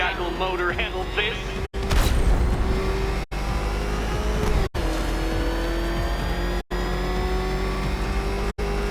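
Batmobile engine revving in the video game Batman Arkham Knight, loud roaring acceleration with rising and falling revs and a few sharp cuts, close and continuous with a voice speaking over part of it.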